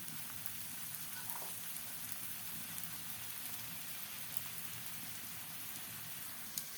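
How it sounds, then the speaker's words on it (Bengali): Snacks of flour and potato frying in hot oil on a tawa give a faint, steady crackling sizzle like light rain, with a few tiny pops and no voices. "তেলটা গরম হয়ে গিয়েছে, দিয়ে দিচ্ছি বানিয়ে রাখা টিফিন"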